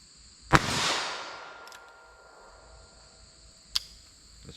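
A .22 WMR or .38 Special +P round fires in a ballistic test, giving one sharp, loud report followed by a decaying echo, then a second fainter crack a few seconds later, with crickets chirping behind.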